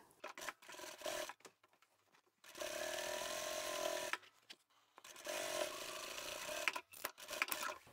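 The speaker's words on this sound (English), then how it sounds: "the next one I'm going to sew along the top of the stabilised fabric" Sewing machine stitching along the top of stabilised fabric for a large duffle travel bag, two bursts of steady quiet motor whirring with clicks and pauses between.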